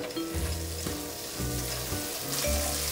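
Butter added a little at a time to a pan for tarte tatin, sizzling and spitting loudly up close, with a few stirring scrapes and bursts of crackle over a steady frying hiss.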